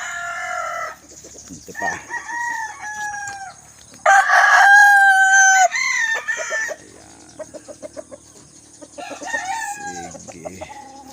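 Roundhead Hatch claret gamefowl roosters crow loudly and close, several drawn-out cock-a-doodle calls overlapping with clucks and short squawks, and someone speaks briefly between them.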